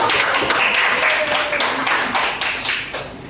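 Scattered clapping from an audience at a religious lecture, a dense patter of hand claps that holds steady for a few seconds and then thins slightly toward the end.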